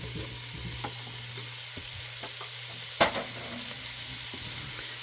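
Mushrooms sauté in a hot pan for a tuna noodle casserole: a soft continuous sizzle with light spatula scrapes and one sharp clack of a utensil partway through, close by and without speech.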